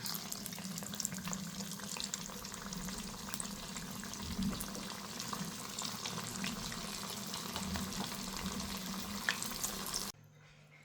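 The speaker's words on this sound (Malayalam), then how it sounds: "അപ്പോൾ ഇനി ബാക്കിയുള്ളതും കൂടെ നമുക്ക് അതുപോലെ ഫ്രൈ ചെയ്തെടുക്കാം" Onion vada (ulli vada) frying in hot oil, a dense and continuous bubbling sizzle that holds at an even level throughout and cuts off abruptly near the end, with no speech.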